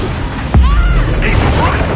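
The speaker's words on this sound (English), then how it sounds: "Bombarda!" Bombarda blasting spell in Hogwarts Legacy erupts as a single sharp, loud burst with a deep low boom, trailing into whooshing magical tones and a lingering rumble.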